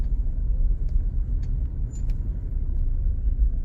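Road traffic in central Harare, Zimbabwe, gives a steady, loud engine rumble from passing cars, with a few brief higher hisses like air brakes, and no talking.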